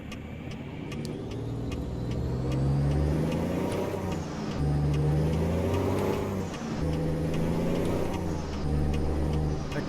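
A car passing a truck on a road in the American Truck Simulator game: a loud, continuous engine rumble with slowly rising and falling swells, with no talking.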